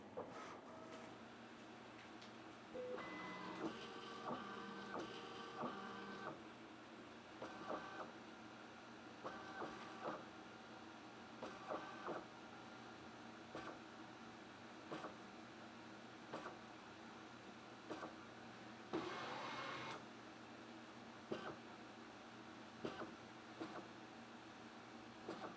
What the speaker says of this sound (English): Your machine will go through 5 steps and complete the calibration.